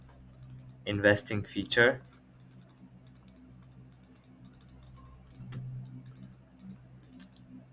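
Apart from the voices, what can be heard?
typing notes on a computer keyboard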